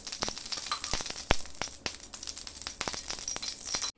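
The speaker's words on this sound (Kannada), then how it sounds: "1 ಟೀ ಸ್ಪೂನ್ ಎಣ್ಣೆ ಹಾಕ್ಕೊಳ್ಳೋಣ." Oil heating on a hot griddle on a stove, a close crackling sizzle with frequent sharp pops and spatters, ending abruptly.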